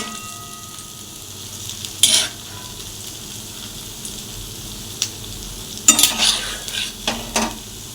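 Palm fruit fritters (taler bora) deep-frying in oil over low heat, a soft steady sizzle broken by a few brief louder scrapes and clinks of a utensil against the pan, no talking.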